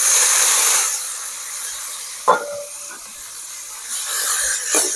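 Tomatoes sautéing in a pan with garlic for a Tamil thokku fish fry, giving a steady hiss-like sizzle that is loudest at the start and fades, with a few brief clinks and stirring sounds.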